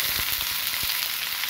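Cut eggplant pieces hit a pan with already-fried onions and sizzle loudly and continuously, with close stirring scrapes and crackles over the hiss.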